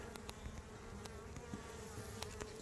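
Honey bees at an opened hive drone in a steady, soft insect buzz, with a few louder individual bees passing close by against the continuous hum.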